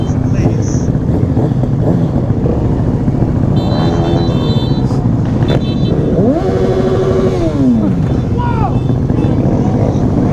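Honda Grom motorcycles ride along a road, their small engines droning loudly and close. The pitch rises and falls as they shift.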